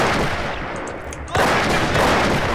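Machine gun fire in the World War II strategy game Company of Heroes on an Eastern Front map: a dense, continuous roar of rattling fire that dips briefly, then swells louder again with no pause.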